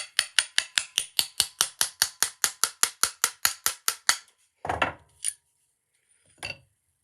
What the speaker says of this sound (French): Et après, je mets un petit coup de marteau.